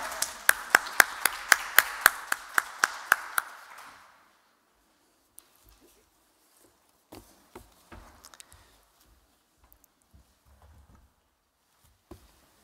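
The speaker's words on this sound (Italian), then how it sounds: "Grazie, applauso." Applause from an audience at a cycling workshop event, around a dozen sharp, evenly spaced claps over about four seconds before fading into near silence with a few scattered soft taps.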